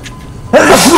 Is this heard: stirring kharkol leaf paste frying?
no